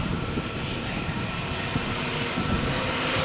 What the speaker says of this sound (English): EasyJet flight to London Luton is cleared for takeoff